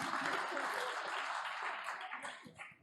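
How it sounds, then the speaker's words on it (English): Audience applause for a startup presenter at a mobility technology event in Hamburg, a steady wash of clapping that holds for a few seconds before thinning out near the end. "applause please for Heinz"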